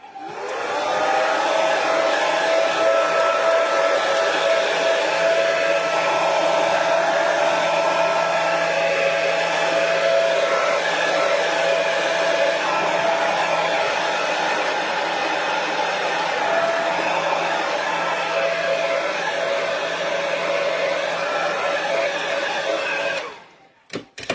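Steady whooshing roar of a heat drying tool blowing over splattered paint on cardstock, loud and close, running continuously with no talk before it switches off at the end.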